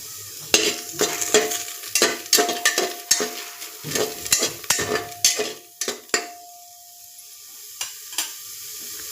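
Onion sizzles in hot oil in a heated pressure cooker while a spoon scrapes and clanks against the metal in a quick irregular rhythm. The stirring eases off near the end, leaving a softer fry.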